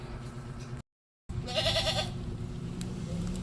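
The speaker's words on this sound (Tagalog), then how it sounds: "kanino kayang kambing yan, oh. Ayan, naghahanap sa kanyang kasama." A single wavering goat bleat rises briefly over steady outdoor background noise after a short dropout, moderately distant.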